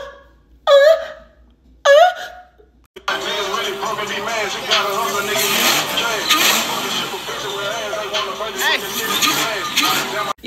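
A Dodge Hellcat V8 fitted with a 4.5L Whipple supercharger revs hard, with a loud, steady roar and rising surges. Someone speaks briefly in short bursts just before the engine starts.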